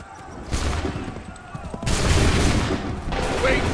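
Musket volleys crack out in Assassin's Creed III, several broad bursts of massed gunfire rolling one after another, loud and close, with shouting voices mixed in.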